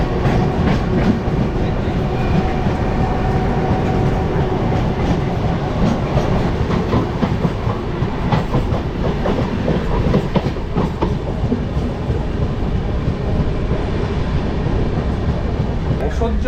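Kamrup Express running on rails, heard from aboard: a continuous rumble with rhythmic clickety-clack of wheels over rail joints, steady and loud throughout.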